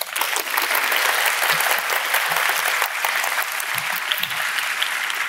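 A studio audience gives loud, continuous applause at a panel talk, dense clapping holding steady throughout with a few low murmurs underneath.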